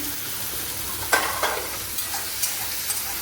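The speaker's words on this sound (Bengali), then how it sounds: "গলে যাওয়া পর্যন্ত ভাজবো।" Kakrol (teasel gourd) frying with turmeric and salt in a pan, a steady close sizzle broken by a few soft stirring scrapes and clatters, no voices.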